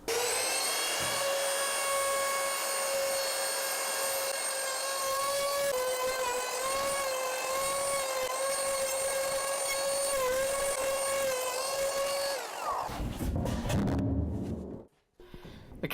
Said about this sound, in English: I can round over, de-arris the edges using my cheap Katsu router